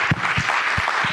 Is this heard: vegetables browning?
no